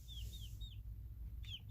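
Short rising chirps from silkie and ayam cemeni chickens, a few quick peeps in a row followed by a pause and another peep, faint over a low steady hum.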